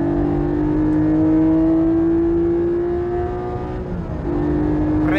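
Car on a track at full throttle during drifting practice, engine revving up with a rising steady whine, dropping briefly near the end as it shifts then climbing again, loud and close.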